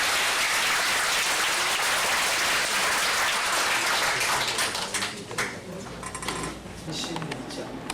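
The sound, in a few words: audience applause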